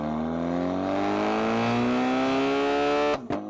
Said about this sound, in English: this is extremely sporty, has fantastic exhaust notes, and comes fully loaded.